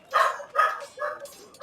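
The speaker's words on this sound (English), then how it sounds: "Guys, what are you barking at?" Dogs in a Game of Thrones video game bark in three or four loud, close yaps spaced about half a second apart, with no talk over them.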